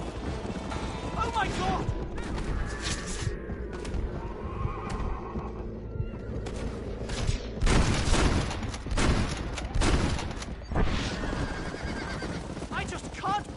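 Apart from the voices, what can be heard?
horse galloping in video game Red Dead Redemption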